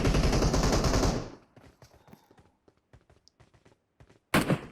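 Rapid automatic gunfire from the PUBG Mobile video game rattles loudly for over a second, then scattered lighter shots and thuds follow before a final sharp burst.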